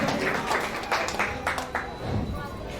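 A crowd at a company foundation day celebration gives a continuous round of applause to welcome a speaker, a dense steady patter of many hands with a room rumble beneath.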